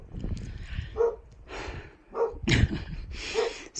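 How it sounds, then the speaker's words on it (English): A dog locked inside a padlocked cabin on a mountain trail barks in several muffled bursts, with breathy sounds between barks, heard from just outside the door. "locking the dog inside."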